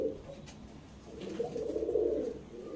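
Many pigeons coo together close by, a steady stream of low, throaty, overlapping calls that swell slightly toward the middle, with no talking.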